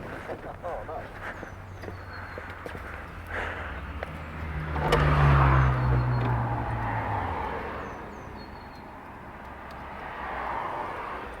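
A Honda CT 110 motorcycle engine with a loose exhaust rumbles and revs, swelling louder in the middle before easing off, with a rough, rattling edge throughout.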